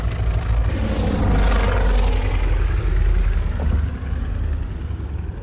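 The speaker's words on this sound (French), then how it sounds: "Et les avions de la Luftwaffe seront incapables de les ravitailler suffisamment, malgré les promesses de leur chef, Göring." Luftwaffe propeller aircraft from the Stalingrad airlift period drone loudly and steadily, a broad, dense engine roar that swells slightly and then eases, with no voices heard.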